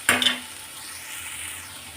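Cumin seeds dropped into hot oil give a sharp hiss with a brief clatter at first contact. A steady, soft sizzle follows, close and without voices.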